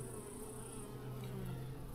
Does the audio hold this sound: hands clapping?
no